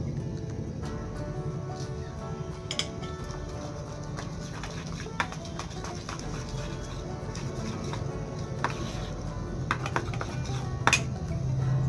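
A utensil stirs batter with sugar in a bowl, making a steady, close clatter of metal scraping and knocking against the bowl over a constant background hum.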